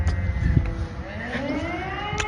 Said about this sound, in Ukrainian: чого знову повітряна тривога?